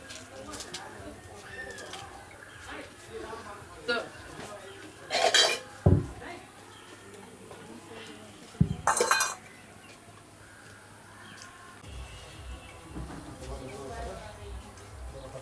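Dishes and cutlery clatter in a household kitchen, two sharp metallic bursts of clinking standing out above steady background noise, with people talking and birds cooing nearby.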